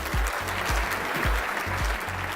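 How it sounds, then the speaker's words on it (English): A crowd applauds steadily over a deep, regular thumping bass beat. "Can you give each other a round of applause real quick for the work you do every day?"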